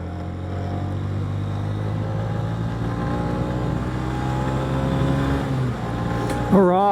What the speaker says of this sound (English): this is my first official highway or freeway pull since I put the, since I got the bike running